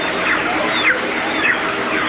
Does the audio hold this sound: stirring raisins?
no